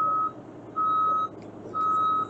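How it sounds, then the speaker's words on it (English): Travel alarm of a Bobcat E32 mini excavator beeping in long, steady, evenly spaced tones, three beeps, loud and close over low machine rumble. "if you hear that beeper, that just means you're moving."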